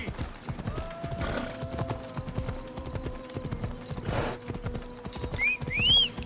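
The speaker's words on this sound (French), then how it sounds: "Allez, plus vite mon cheval." A horse gallops in the Assassin's Creed Odyssey video game, with rapid, rhythmic clip-clop hoofbeats running throughout, a brief whinny and a few short rider grunts and other game sounds mixed in.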